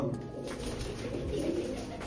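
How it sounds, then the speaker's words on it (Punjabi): Pigeons, a male and female pair kept in a loft, coo continuously in soft, low rolling calls that sit close and fairly loud over steady background noise. "ਇਹ ਕਬੂਤਰੀ ਆ, ਉਹ ਕਬੂਤਰ ਆ"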